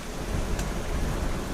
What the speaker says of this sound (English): Apologies for the storm today.